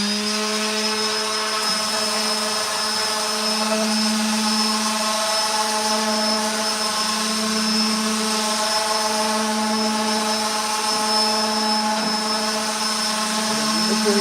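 An electric sander works over an old red gum table, a steady loud motor whine with a strong droning tone held unbroken throughout, the tool pulled back and forth under its own weight.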